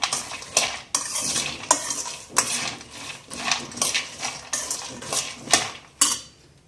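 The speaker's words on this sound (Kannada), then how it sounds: "ತುಪ್ಪ ಒಂದು ಚೂರು ತುಪ್ಪ ಹಾಕಿ ಹೀಗೆ ಫ್ರೈ ಮಾಡ್ಕೊತಾ ಇದ್ದೀನಿ." Dry fruits frying in a little ghee are stirred around a pan, a steady series of spatula scrapes and clinks against metal over a light sizzle, no speech.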